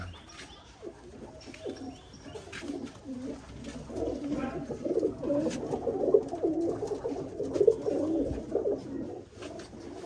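Steady pigeon cooing, a low throaty burble repeating over about ten seconds, growing a little louder toward the end, with faint chirps around it.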